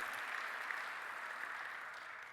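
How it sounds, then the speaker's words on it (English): Audience applause at an awards ceremony, a steady, dense wash of clapping from many hands that carries evenly through the whole stretch with no voices over it. "let's give them a round of applause, a hand for all that they did."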